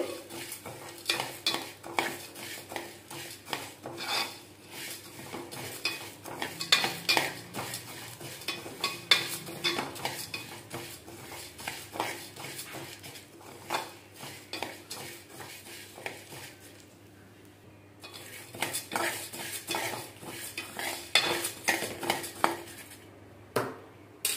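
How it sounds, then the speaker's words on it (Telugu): Prawns fry with cloves in a pan for a prawn pickle, cooking until light brown, with continuous stirring scrapes, utensil clinks and a soft sizzle that briefly drop to a quiet patch before resuming; no one speaks. "ఇవి బ్రౌన్ కలర్ వచ్చే వరకు వేయించుకోవాలి."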